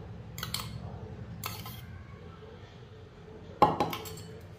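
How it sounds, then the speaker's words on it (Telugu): Spoon stirring yogurt into a thick, smooth paste in a bowl for a tandoori chicken marinade, with a few light clinks against the bowl and a sharper cluster of scrapes and taps near the end. "దాన్ని మొత్తం ఇలాగా మిక్స్ చేసుకోవాలన్నమాట"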